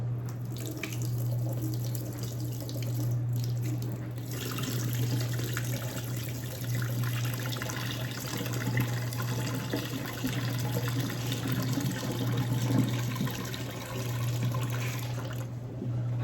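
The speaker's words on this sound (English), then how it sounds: "We're gonna drain all the water off." Running water drains from a sink full of freshly washed greens in a home kitchen, a steady gushing rush with a constant low hum behind it that goes on without a pause.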